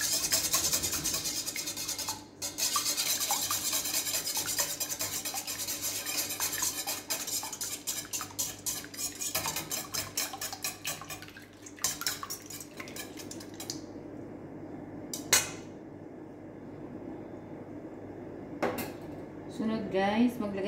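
Butter being mixed in a metal bowl for puto, with steady clinking and scraping of a utensil against the bowl that runs on for a long stretch, with a few louder knocks near the end.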